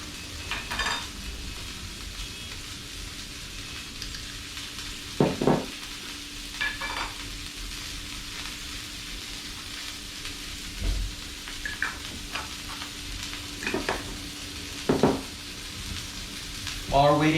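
A burger patty fries in a pan while a tomato slice is seasoned nearby, giving a steady low sizzle with occasional clinks and stirring knocks from utensils.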